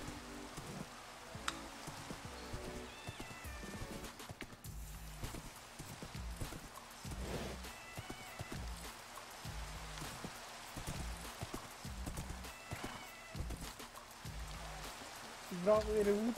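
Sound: horse hooves and whinny in a video game

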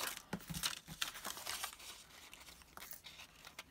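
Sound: cutting paper for a craft gift

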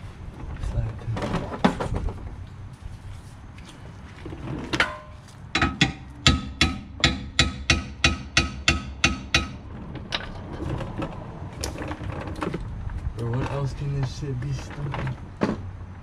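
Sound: hammering to loosen car sway bar

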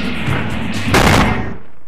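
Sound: explosion in Spyro Year of the Dragon video game

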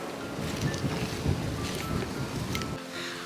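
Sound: strong wind blowing

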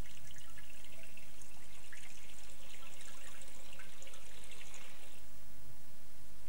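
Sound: cold water running over a burn

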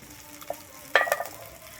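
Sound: spice paste with cumin powder frying in a pan

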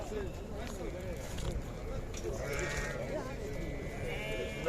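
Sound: sheep bleating at livestock market

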